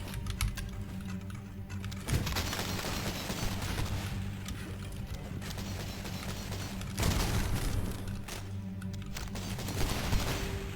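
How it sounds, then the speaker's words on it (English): Dynamite thrown by an enemy shotgunner explodes in the horror shooter Cultic on extreme difficulty. Dense gunfire-like bursts and crackling blasts fill the whole stretch loudly, with a few sharper peaks standing out. "One of the shotgunners threw a dynamite, hence the explosion."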